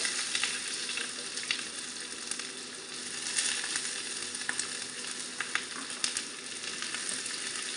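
Thinly sliced onions sautéing in hot oil with chillies and curry leaves, a steady close sizzle with faint crackles and occasional stirring scrapes, no voices.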